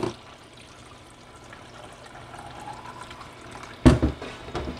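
Water runs steadily and quietly into a film developing tank as it fills for a wash, ending in a brief louder splash and clatter near the end.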